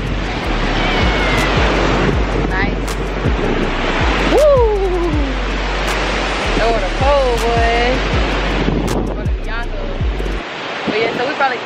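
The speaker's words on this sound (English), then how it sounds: "See the ocean." Ocean waves wash onto a wet beach in a loud, constant surf roar close by, while a voice talks intermittently over it.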